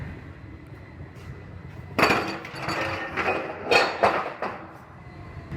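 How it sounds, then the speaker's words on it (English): Metal clamps knock, clink and creak as a vehicle is fastened to a collision-repair frame bench ahead of frame sectioning, with several sharp bangs in the middle and end and a low shop hum underneath. "I'm gonna clamp this vehicle down to the bench"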